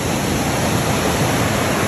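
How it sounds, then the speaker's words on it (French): A mountain river flows nearby in a loud, unbroken rush of water, a dense steady roar with no voices or other sounds on top. "petite vue rivière."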